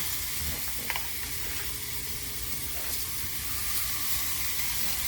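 Steaks sizzle steadily on a hot surface, a constant close frying hiss with faint crackles and small clinks, no talking.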